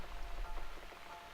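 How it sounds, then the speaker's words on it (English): Steady rain falls in the video game The Cat Lady as a soft, even patter that stays constant throughout, quiet and with no voices over it. "Looks like we got the rain back."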